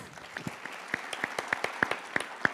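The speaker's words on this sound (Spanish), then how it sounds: "Sí, un aplauso, porfa." Applause from an audience at a Spanish-language talk on big data, a few distinct loud claps standing out over a steady patter, moderately close.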